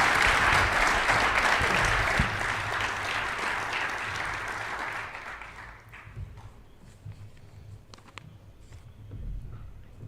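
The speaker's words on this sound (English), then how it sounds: "let's give a great round of applause to this panel" An audience applauds a panel at a SEAHAC 2022 event, a dense, loud round of clapping for about six seconds that then thins out and fades to scattered claps.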